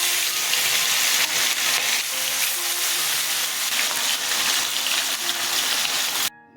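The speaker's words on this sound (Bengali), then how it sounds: "আমি এখন কড়াইতে তেল দিয়ে দিচ্ছি, মাছটা ভেজে নেব।" Bele fish frying in hot oil in a wok, a steady loud bubbling sizzle that continues without pause before cutting off at the end.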